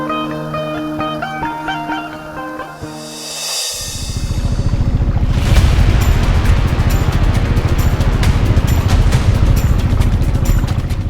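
A boat moving along the Sesayap River in North Kalimantan, Borneo: after a few quiet seconds a loud, steady motor drone comes in and runs continuously with clattering texture, close by and without talk.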